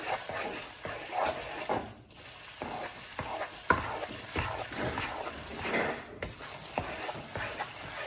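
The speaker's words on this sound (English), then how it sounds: "If you guys hear any noise in the background, that's my freaking dog playing around." A dog playing in a home kitchen in the background, with scuffling and shuffling movements, soft whimpers and a faint bark, quiet and intermittent.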